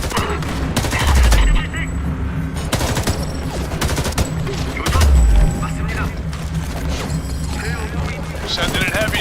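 Bursts of automatic gunfire and heavy booms fill a battle in the video game Homefront: The Revolution, loud rapid volleys repeating near and far while soldiers shout over the combat.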